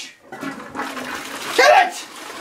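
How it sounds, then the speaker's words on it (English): A toilet flushes in a bathroom with a rushing swirl of water that peaks and then drains away, close and loud, while people shout excitedly over it. "you're gonna flush"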